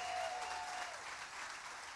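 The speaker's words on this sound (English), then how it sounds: "Come on, everybody give them a round of applause." A church crowd at a Resurrection Sunday service in Tulsa, Oklahoma claps steadily throughout, a dense patter of applause at moderate volume with no voices.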